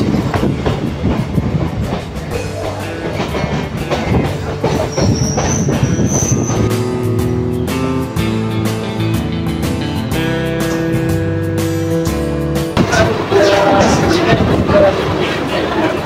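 A Kolkata local train rumbles along the Ganges bank with steady wheel noise, then brakes with a high squeal and slows to a stop at Eden Gardens platform, a voice talking over the rolling.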